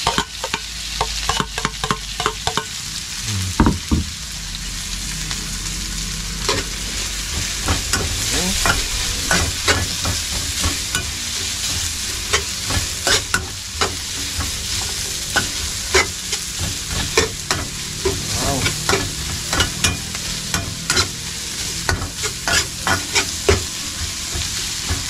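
Chopped onion, garlic and ginger sautéing in a hot pan, a steady close sizzle with frequent sharp scraping stirs throughout.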